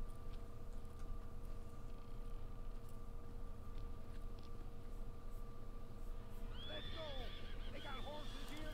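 Horses in the Red Dead Online video game snort and whinny near the end, with soft hoof clops and a steady low game ambience running underneath.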